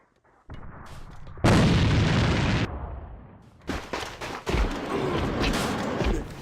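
A grenade goes off in Counter-Strike during an ESL Autumn Cup match, a loud broadband blast that decays over about a second, followed by further bursts of gunfire and impacts.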